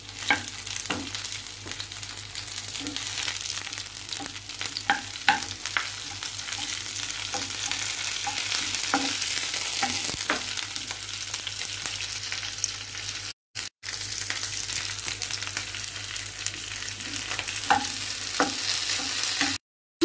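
Steady sizzling frying in a pan while a Bengali chicken curry with mustard and curd cooks, with regular scrapes and knocks of stirring scattered throughout and a couple of brief dropouts.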